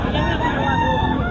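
A rooster crows in a brief, strained burst at a crowded roadside chicken sale near Grotto, heard close amid the busy murmur of people talking and other birds in the background.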